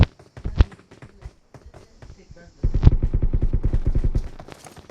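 Video game gunfire crackles in scattered shots, then a sustained rapid burst of automatic fire rattles loudly and evenly for about two seconds before stopping.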